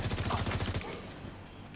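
Rapid automatic gunfire from The Division 2 rattles loud and close in a tight burst of shots, then breaks off after under a second, leaving quieter game ambience.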